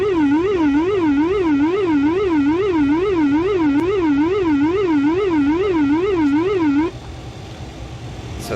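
An ATR aircraft's elevator trim whooler aural warning sounds alone in the cockpit during a daily check, a steady, loud warbling tone that wavers rapidly up and down for about seven seconds before cutting off, leaving faint cabin hum.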